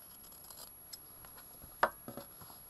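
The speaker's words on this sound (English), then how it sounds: "I'm just going to clip the corners, take a little triangle off each corner." Scissors snipping small triangles off the fabric corners of a sewn drawstring bag, a few quiet close cuts with one sharper snip amid faint rustling.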